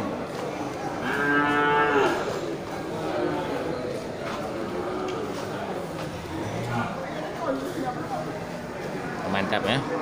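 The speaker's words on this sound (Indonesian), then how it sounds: "di lapak sapi ini terlihat sapi-sapi Aceh jantan dan betina" Aceh bulls and cows at a livestock market moo, one long clear low moo early on among a busy crowd, with people talking and other market noise throughout.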